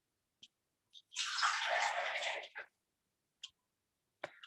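Water poured onto a plate during a summer cooking session for Krishna offerings, a soft splashing pour lasting about a second and a half, with a few faint clinks and taps before and after.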